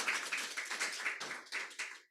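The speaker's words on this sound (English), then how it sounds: "I think we give a round of applause for our" Audience applause for the panelists closing an agriculture and agribusiness conference session: a room of hands clapping steadily and densely for about two seconds, fading out at the end.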